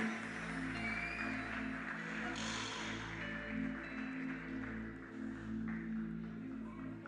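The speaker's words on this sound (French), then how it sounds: "On applaudit pour elle." Audience applause at the final of the Maajabu Rafiki talent show: a dense, steady crowd clapping that runs the whole stretch under loud sustained music.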